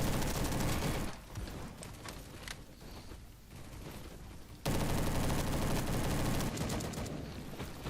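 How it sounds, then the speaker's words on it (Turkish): A G3 rifle fires in the Roblox game Bad Business, heard as dense, loud bursts of rapid gunfire that drop away briefly and then return at full intensity. "Adam kafama sıktı. G3 kullanıyor bu arada."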